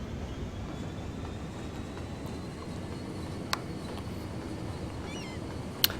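A train runs along a rail route in the city-building game Cities Skylines, a quiet, steady rumble of wheels and carriages that stays even throughout, with a couple of faint clicks near the end.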